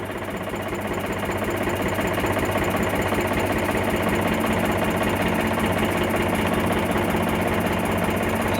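An Eicher 485 tractor engine idles with a steady, rapid knocking chug, close and constant throughout with no talking.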